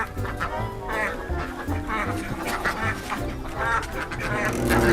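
Ducks quack repeatedly at a petting farm, loud and close with other fowl mixed in, while people talk over the calls.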